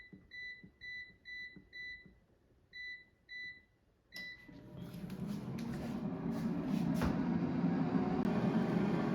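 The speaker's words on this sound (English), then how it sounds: "So while the air fryer is cooking" An air fryer heating frozen Trader Joe's vegetable bird's nests at 400 degrees Fahrenheit gives a steady, rising fan whoosh and hum. It follows a run of sharp electronic beeps as the temperature and timer are set.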